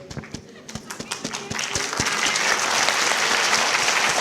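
Audience at an education awards event starts with scattered individual claps, then swells into dense, loud applause filling the hall.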